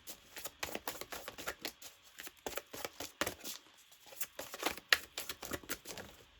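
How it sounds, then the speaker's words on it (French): Tarot cards are drawn and handled in rapid flurries, soft papery flicks and shuffling riffles close to the microphone, quiet and uneven in rhythm, with no voices. "Je vais tirer les autres cartes pour vous raconter votre histoire."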